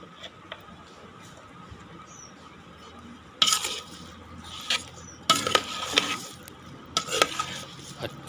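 Vegetable pickle being stirred with mustard oil in a pot, with short bursts of scraping and clinking from a spoon against the vessel, separated by quieter pauses over low background noise.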